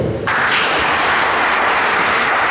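Sudden burst of applause from a large crowd at a table tennis tournament, dense continuous clapping that starts abruptly and stays loud and steady.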